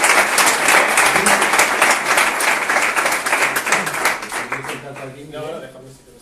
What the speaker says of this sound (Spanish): vamos a darle un aplauso a...